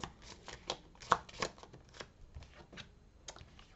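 Tarot cards are shuffled and riffled close by, a quiet run of soft flicks and papery snaps with one sharper slap near the middle, with no talking.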